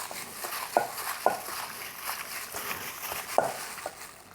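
Beef marinade with cornstarch mixed in a bowl gives soft, wet, squelching stirs and a few sharp clinks of a utensil against the side, close and fairly quiet.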